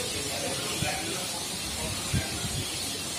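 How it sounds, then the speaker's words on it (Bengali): Spices sizzling and hissing in hot oil in a kitchen, with a tomato chutney being cooked; a steady, fairly faint frying hiss carries through with a few soft clatters and some voices in the background. "রান্না আওয়াজ পাচ্ছে, ছোঁক ছাঁক দিচ্ছে এখন"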